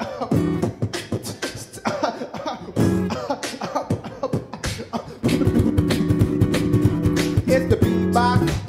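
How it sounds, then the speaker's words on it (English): Human beatbox performance with coughs worked into the rhythm: sharp cough bursts and vocal percussion hits, building into a denser, louder beat in the second half. "Now I could easily cough and throw the beatbox off. Or mix the beat with the cough and the problem is solved."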